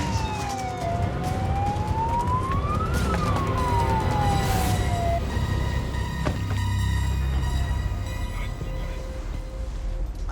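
Emergency vehicle siren wails loudly with a rising and falling sweep, then fades, over steady engine and road noise, as an ambulance crew rushes a 67-year-old male patient in Australia.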